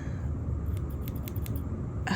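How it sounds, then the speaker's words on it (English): Bonsai trimmers snip sewing thread on a table, a quick run of several crisp clicking cuts close by, with no talk. "they're not scissors, I think they're like bonsai trimmers"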